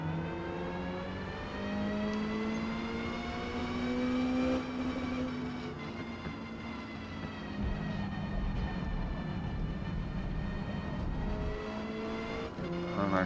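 A Lancia Delta race car in Forza Motorsport, D class, at Catalunya: a steady engine drone with rising and falling pitch through gear changes and cornering, continuous and fairly close.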